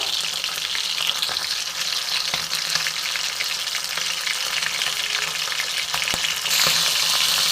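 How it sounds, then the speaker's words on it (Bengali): Bata fish coated in salt and turmeric frying in hot oil, a dense continuous sizzle with faint crackles, close and steady, brightening slightly near the end. "বাটা মাছগুলো আমি ভালো করে ভেজে নেবো আমি লবণ হলুদ মাখিয়ে তেলে ছেড়ে দিয়েছি"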